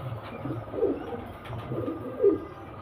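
A pair of domestic pigeons coo softly in low, repeated murmurs, nearby but fairly quiet over a faint background hum, no speech.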